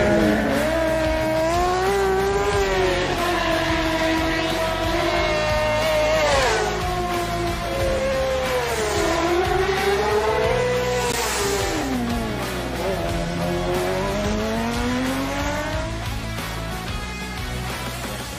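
Racing sidecar outfits at the Isle of Man TT, engines howling and rising and falling in pitch as the machines pass and shift, loud and continuous without speech.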